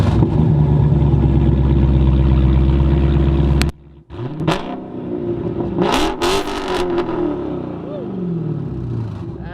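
A Dodge Scat Pack car engine rumbles loudly at close range, then cuts and restarts with sharp revs that rise and fall, while people talk nearby.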